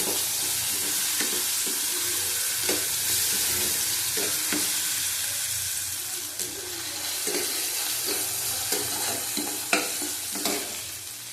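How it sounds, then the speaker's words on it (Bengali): Shrimp curry masala with garlic and ginger is stir-fried in a pan, giving a continuous sizzle broken by repeated scraping strokes of a spatula, close and steady. "ভালো করে কষিয়ে নেবো"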